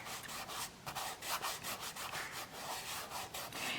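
A finger softly rubs and buffs cold wax medium across a watercolour painting on canvas, making a faint, continuous dry scratching and whisking texture in close, quiet strokes with no voices.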